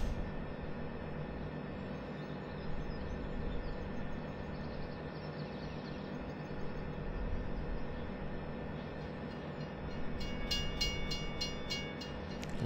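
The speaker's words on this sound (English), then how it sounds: "The train is coming." Train in Farming Simulator 2017 rumbling steadily along the rails, a continuous loud rolling drone with rhythmic clicking toward the end.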